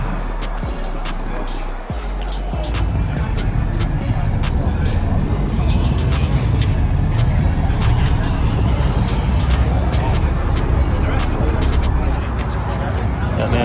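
An Audi TT at an outdoor car show in Destin, Florida sends out a loud, dense engine rumble that swells and holds steadily close by, with people talking over it.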